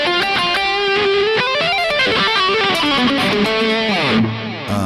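An electric guitar, a Kiesel Osiris, plays through a Soldano Hot Rod 100 amp in a distorted tone, running a quick phrase of sustained notes that slides downward near the end, with no talking.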